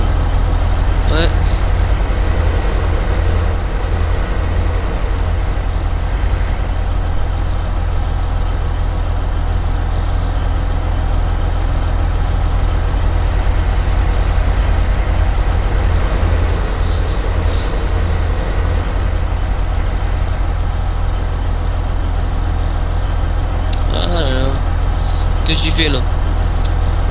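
A tractor engine in Farming Simulator 15 drones steadily at a low, loud rumble throughout, with people talking over it at times.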